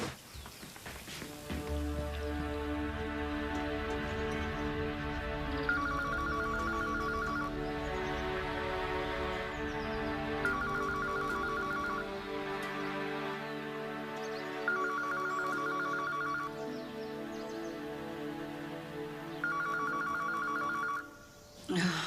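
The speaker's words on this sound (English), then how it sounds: "Stop that phone from ringing." A home telephone rings in repeated electronic trills, four evenly spaced bursts over a sustained background tone, fairly close and steady, with no talking heard.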